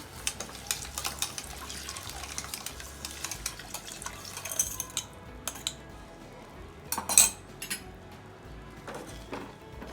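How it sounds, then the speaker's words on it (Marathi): Water poured into a pot of masala frying in oil, with clinking utensils and pot knocks scattered over a steady low kitchen background, a louder burst of clatter near the end; no talking. "आणि यात आता हे मी पाणी टाकते"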